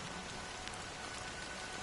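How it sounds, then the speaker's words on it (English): Steady rain pours down in the Honkai: Star Rail game world, a dense even hiss of falling drops with faint patters, continuous and alone with no voices. "But it's still raining."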